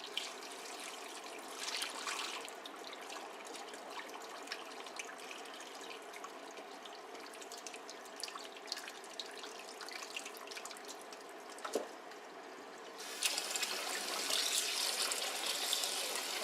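Running tap water splashes into a kitchen sink as cooked noodles are rinsed to cool them, a steady close trickle that swells into a stronger, louder gush near the end, with no voices.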